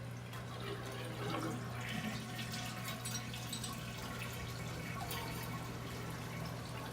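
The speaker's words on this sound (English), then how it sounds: "The flapper seals on the flush valve. It just allows the water to leak a little bit." A running toilet leaking water past a flapper that fails to seal on the flush valve because of buildup, giving a steady continuous trickle and hiss of water with a low hum beneath, unbroken for about seven seconds.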